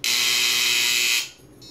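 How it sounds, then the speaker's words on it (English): An Arduino-built elevator relay tester for relay-logic types sounds one steady, loud electronic beep that holds for about a second before cutting off, leaving only a faint hum behind. "And it beeps and it flashes when it's done."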